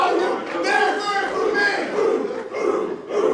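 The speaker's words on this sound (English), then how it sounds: "You hear this crowd in the action building." A wrestling crowd in a packed hall at a student showcase roars and chants in loud, continuous waves, with surges and brief dips throughout.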